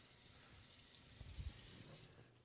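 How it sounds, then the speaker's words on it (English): Kitchen tap running water through separated leaves, a steady hiss of flowing water that builds slightly then tapers off, close but fairly faint, with no talk. "I want to run my water down through there."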